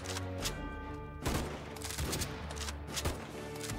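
Repeated gunfire volleys from sniper towers in Tower Defense Simulator, the Roblox tower defense game, during a wave, sharp cracks and booms landing close together over a steady music bed, no voices.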